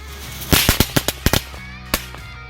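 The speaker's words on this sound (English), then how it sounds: "What if I throw some firecrackers on their mound?" A rapid string of sharp firecracker pops and bangs, close and loud, set off on an ant mound outdoors, followed by a single late crack.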